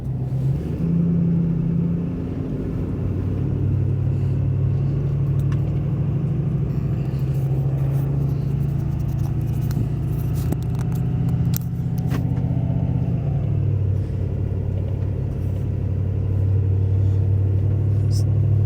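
A pickup truck towing a dump trailer climbs a mountain road near a landfill, its engine a steady low rumble that swells and eases with gear changes, close and continuous throughout.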